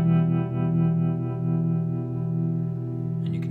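Sustained electric guitar note through a Chase Bliss tremolo pedal, its volume pulsing steadily at a regular rate, loud and close, with a brief new strum at the end.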